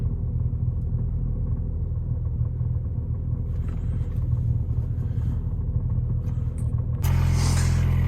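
A parked MEEP car engine runs at idle, a steady, close low rumble with a constant throbbing tone, joined near the end by a louder, brighter burst of noise.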